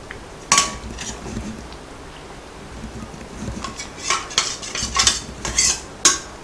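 A spoon stirs chana dal payasam with ghee-fried cashews and coconut in a metal pot, making intermittent scraping clinks against the pot that grow busier and more rhythmic toward the end, close and clear.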